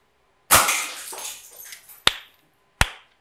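A very loud pellet gun fires three sharp, close cracks: the first has a long ringing decay, and two shorter shots follow, spaced well apart.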